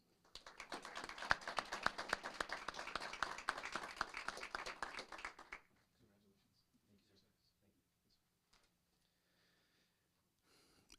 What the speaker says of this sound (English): if we could give him also a big round of applause